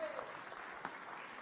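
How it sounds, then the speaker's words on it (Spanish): A church congregation applauding to welcome their pastor, a brief, continuous wash of clapping from a crowd that sounds fairly distant and steady, with a faint voice over it. "a recibir con un fuerte aplauso al pastor José Gutiérrez"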